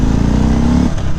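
A 2018 Harley-Davidson Street Bob engine rumbles loud and close in a short, brief burst, with a low throbbing tone that drops off near the end.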